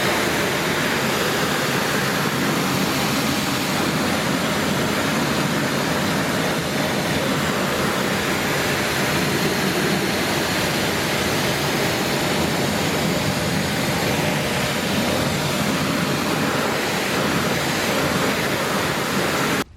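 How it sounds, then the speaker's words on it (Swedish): Water sprays onto a car wheel rim from a hose or pressure washer, a loud, unbroken hissing spray close by, steady from start to finish. "Men vi börjar med att spola hela fälgen och så utvärderar vi därifrån vad vi ska göra mer."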